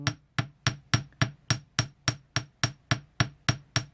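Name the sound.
ball peen hammer tapping wire into paddle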